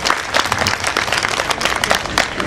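Loud, dense audience applause at a Gita Jayanti celebration, many hands clapping together continuously throughout.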